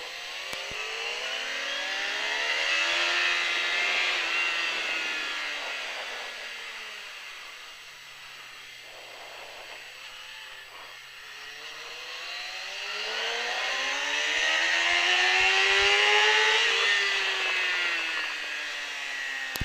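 A motorcycle engine revs hard on a track at a riding school in Pau, pitch climbing through gears, eases off, then screams back up to high revs, loud and close.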